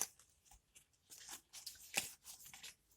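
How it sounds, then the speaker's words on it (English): A deck of cards is shuffled nearby in a quiet room, giving soft riffling bursts and flicks separated by short pauses, with a few sharper snaps along the way. "The cards are not shuffling that well."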